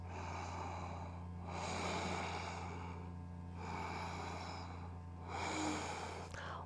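Slow, deep yoga breaths drawn in and out through the nose, three long airy swells spaced a couple of seconds apart, close and quiet against a low steady hum.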